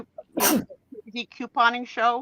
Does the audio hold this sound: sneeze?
yes